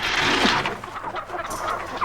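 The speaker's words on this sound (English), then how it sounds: "Never seen such nervous chickens." Chickens cluck and squawk nervously in a noisy, continuous flurry of sound, fairly close, with no talking.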